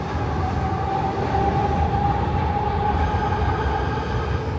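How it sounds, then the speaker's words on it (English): An elevated L train rolls past small row homes in Kensington, Philadelphia, giving a loud, steady rumble and rattle that holds for the whole stretch without any voices. "I love that shot of the L going past these little tiny row homes"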